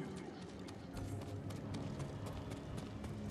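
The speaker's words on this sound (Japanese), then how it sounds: "力強い足音が迫る" Heavy, rapid footfalls pound closer in Ghost of Tsushima Legends, a steady galloping clip-clop rhythm over a dense, continuous backdrop of game ambience.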